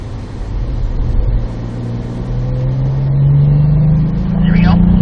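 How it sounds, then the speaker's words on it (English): A car engine accelerates downhill on the North Track at Spring Mountain Motorsports Ranch, its loud, close drone climbing steadily in pitch as the throttle opens, with brief tyre and road noise. "let's accelerate here. Give me some throttle down the hill."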